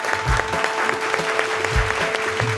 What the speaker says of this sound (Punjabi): ਇਸ ਗੱਲ ਤੇ ਜ਼ੋਰਦਾਰ ਤਾੜੀਆਂ ਬਣਦੀਆਂ